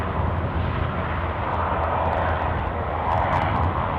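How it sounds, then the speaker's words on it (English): An EasyJet airliner arriving at Aberdeen Airport gives a steady, fairly loud engine roar with a low rumble, holding broadly even across the few seconds with no talk over it. "Oh, that'll be our incoming EasyJet, won't it?"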